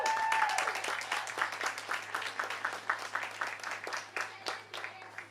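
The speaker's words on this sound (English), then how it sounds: "So give them a round of applause there." Audience at an evening music festival in Fintona, County Tyrone, breaking into a round of clapping that starts strong, then thins into scattered, fading claps.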